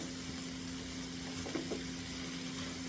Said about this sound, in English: Now my shrimp is sauteing.